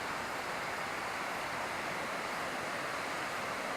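Waves washing onto the shore of Lake Erie at Shades Beach, a steady broad hiss of surf with no distinct breaks, faint and unbroken.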